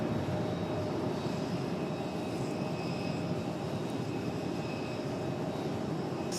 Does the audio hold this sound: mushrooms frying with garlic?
no